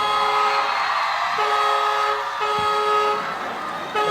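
Tricycle horn honking repeatedly in steady, sustained toots over busy street noise, loud and close throughout.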